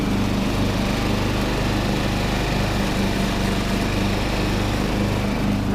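A Cub Cadet 80 riding lawn mower with hydrostatic drive runs steadily at close range, its engine droning loud and unbroken throughout with no speech.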